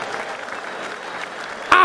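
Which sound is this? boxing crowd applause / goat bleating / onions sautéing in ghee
boxing crowd applause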